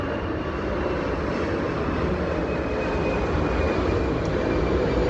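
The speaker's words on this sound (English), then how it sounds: "Freaking plane." An airplane passing overhead, a loud continuous broadband engine roar that holds steady throughout, with no speech over it.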